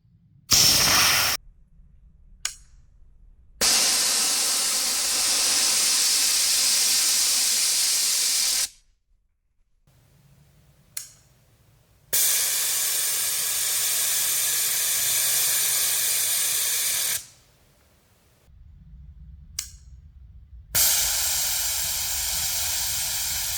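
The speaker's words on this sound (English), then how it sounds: "This right here is a training canister without the capsaicin, and I'm going to show you what it's like to spray it." A Counter Assault bear spray training canister, without capsaicin, fires loud sustained hissing bursts close by, several long sprays separated by short silences, with no talking.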